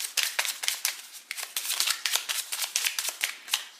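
Tarot cards snapping and flicking as they are shuffled and pulled from a deck, a quick series of crisp, close clicks in an uneven rhythm.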